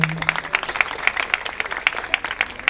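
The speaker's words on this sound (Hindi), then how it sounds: "केड़े सुंदर ताली मारले" An audience claps at an Odia stand-up comedy show, a dense, fairly loud burst of rhythmic hand claps heard up close throughout.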